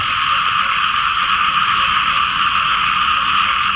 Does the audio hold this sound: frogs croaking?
yes